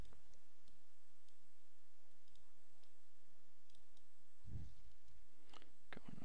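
Faint, sparse computer mouse clicks, a few soft ticks spread across a quiet stretch while an Excel report is built, with a low background hum and no talk.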